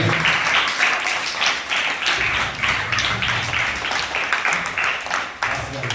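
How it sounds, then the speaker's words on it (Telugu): Children at a vacation Bible school magic show clap together in a sustained, fairly close round of applause lasting several seconds, with voices mixed in underneath. "క్లాప్స్ కొట్టండి రా"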